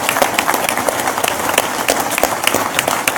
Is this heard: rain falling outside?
no